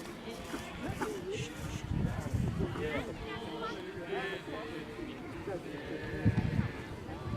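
Ewes bleat intermittently out on the course at a sheepdog herding trial as they are driven along a fence, while a commentator talks almost continuously over the flock.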